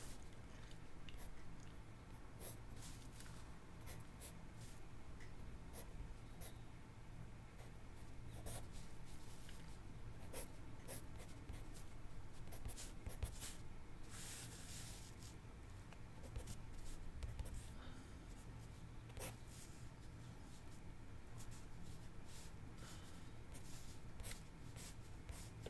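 A pen drawing poppies on paper, a faint, close scratching of the nib with short strokes and small taps over a low room hum, continuing steadily with no talking.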